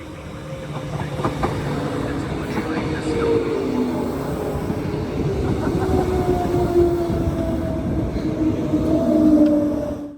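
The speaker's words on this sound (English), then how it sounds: "First, the train arriving at Bray Park." An EMU train rumbles into Bray Park station steadily, with low rolling noise and squealing brake tones building over ten seconds, loud and close.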